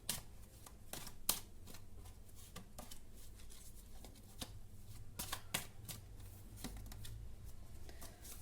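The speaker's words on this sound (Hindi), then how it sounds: "एक और कार्ड निकालते हैं।" A deck of tarot cards being shuffled and drawn, with repeated soft riffling and sharp snapping card sounds at an irregular rhythm, close and quiet with no talking.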